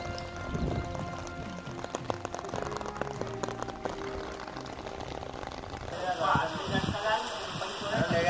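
Rain pours on a ruined wheat crop in the fields of Sehore, Madhya Pradesh, giving a steady, dense patter that grows slightly heavier toward the end, with voices in the background.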